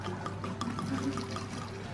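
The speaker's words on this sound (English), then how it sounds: "I pour some Hennessy." Hennessy cognac is poured from its bottle into an empty water bottle, making a steady, fairly quiet liquid pour and splash with no voices.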